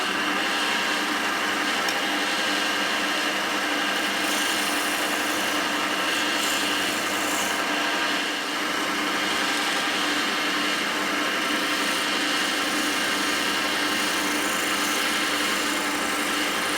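A wood lathe spins a wooden ring with a metal core, a loud, steady whir and broad grinding noise, running unbroken for the whole stretch with no talking.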